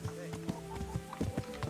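Horse hooves in Kingdom Come: Deliverance clop in a quick, uneven rhythm, close and clear, while someone talks over them.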